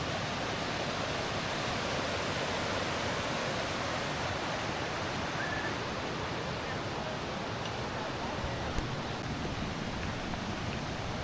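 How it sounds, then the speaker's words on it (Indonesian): A fairly large river at the Gunung Puntang camping area in Bandung rushes past as an even, unbroken wash of water noise, steady and moderately quiet throughout, with no voices. "di tempat ini ada sungai yang cukup besar"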